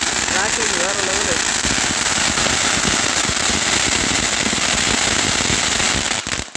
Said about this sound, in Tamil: நல்ல கிராக்லிங் சவுண்டு, ஒரு 2000 லெவல் அடிச்சளவுக்கு எஃபெக்ட் இருக்குது